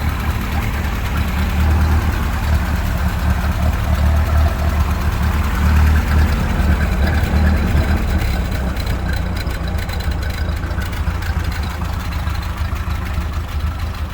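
A 1948 Ferguson TEA20 tractor engine idles steadily and close by, with an even, low chugging tick-over and exhaust note that continue without a break throughout.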